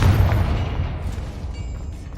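A Confringo blasting spell goes off in Hogwarts Legacy with a deep, heavy boom up front, then a low rumbling decay that fades over a couple of seconds.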